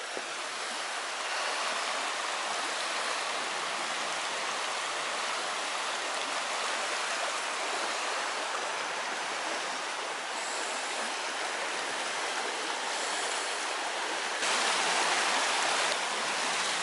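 A countryside stream flowing through a ford rushes in a steady, dense wash of water noise throughout, close and loud, with no break and no voices.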